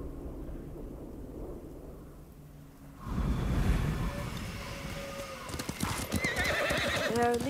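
Hoofbeats of a horse being ridden in the video game Ghost of Tsushima on PS5, a steady clip-clop rising loud and close after a quiet start, with snorts and whinnies and rumbling outdoor ambience.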